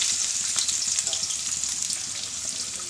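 Onion dropped into hot oil for chicken curry, giving a bright, dense sizzle right up close that crackles steadily and slowly settles over a few seconds.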